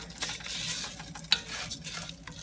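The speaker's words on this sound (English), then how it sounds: "give this rice some color by frying it up" Unwashed rice frying in a pan for Mexican rice over medium heat, a steady close sizzle with soft scraping stirs and one brief sharp clink of a utensil.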